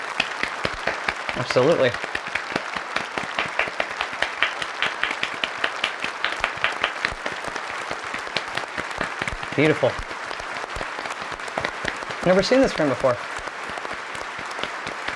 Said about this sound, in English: You can only clap so long.